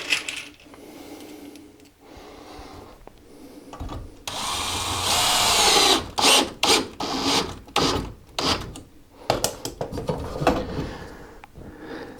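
A power drill drives a screw into a wall strap during a bathroom remodel, with a sustained whirring run followed by a string of short bursts and bumps, close up and loud, with no talking.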